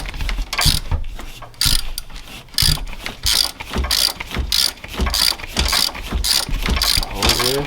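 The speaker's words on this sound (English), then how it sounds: "I'm gonna take that ratchet with it" A ratchet clicks in loud, close bursts of rapid pawl ticks while a camshaft bolt is backed out during a TSP Camshaft Torquer V2 kit install, the strokes repeating rhythmically with brief gaps.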